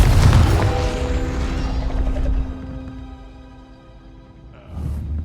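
A Confringo blasting spell explodes in the video game Hogwarts Legacy: a heavy boom up front rings out and slowly fades, then a second thudding burst hits near the end.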